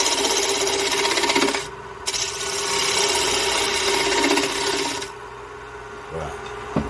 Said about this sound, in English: Now we'll part off the bottom and make it a little bit flatter.